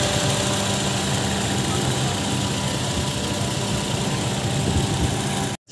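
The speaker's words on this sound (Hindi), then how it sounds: "इस वक्त भी गाड़ी स्टार्ट खड़ी हुई है, आप गाड़ी की अपनी आवाज़ सुन सकते हैं।" A Toyota Corolla Grande sits idling at a Karachi car bazaar, its engine giving a steady, even hum with broadband noise throughout before cutting off abruptly at the end.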